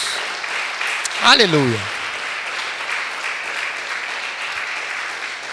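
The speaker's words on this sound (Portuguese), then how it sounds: "Aquele que crê pode aplaudir o Senhor Jesus." A church congregation applauding after a sermon: steady, even applause throughout, with a single voice calling out briefly near the start.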